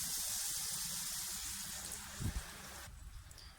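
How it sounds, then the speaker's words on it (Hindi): Water trickling and splashing as about two spoonfuls are poured into a soy sauce and black pepper topping mixture for a homemade pizza, a steady close wash of liquid that thins out near the end. "2 चम्मच के करीब पानी डालेंगे इसमें।"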